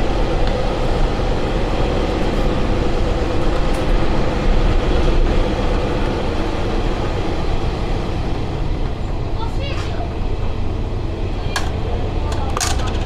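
A train runs through rural Kyushu, Japan, heard from inside the carriage as a steady, loud rumble of wheels on track, with occasional light clicks and rattles and no talk.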